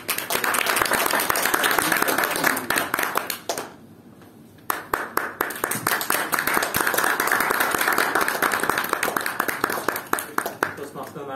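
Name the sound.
round of applause at Toastmasters meeting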